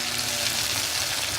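Tomatoes frying with onions in a pan: a close, steady sizzling hiss throughout this short moment, with no talking.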